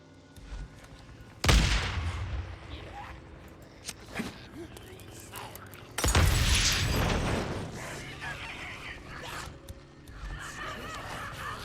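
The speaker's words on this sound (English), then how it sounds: "That's a pipe bomb." A pipe bomb goes off in the zombie survival game Days Gone, a loud close blast with a long rumbling decay, followed by a second heavy explosion amid ongoing game noise and background commotion.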